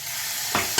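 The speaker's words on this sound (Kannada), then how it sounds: "ಒಗ್ಗರಣೆ ಹಾಕ್ತೀನಿ" Tempering (oggarane) for a vegetable sukka with methi masala hits hot oil in a pan: two sharp, loud sizzling bursts, each settling into a crackling hiss over a quiet kitchen background.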